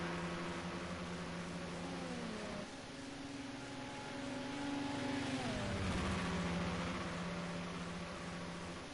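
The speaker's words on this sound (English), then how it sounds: "that BMW just pulls away at the last second" A BMW touring race car in a racing video game, with engine tones rising and shifting as it accelerates away, a steady loud drone with pitch sweeps from gear changes and a second car's engine layered in.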